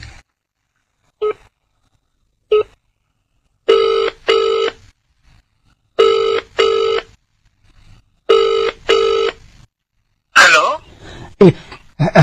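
A telephone rings in repeated double bursts with short gaps between them, loud and close, during a Santali comedy scene, and a voice comes in at the end as the call is answered.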